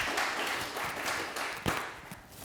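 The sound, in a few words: audience applause for a t-shirt designer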